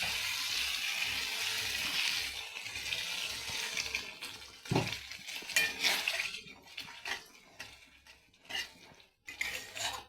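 Water poured into a pot of spiced fish curry cooking on oil-fried masala, a continuous splashing pour that breaks into clattering stirs and bursts of sizzle, close and fairly loud.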